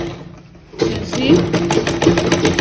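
A sewing machine stitches a shift dress in quick rattling bursts that start after a short quiet moment, close up, while a person talks over it.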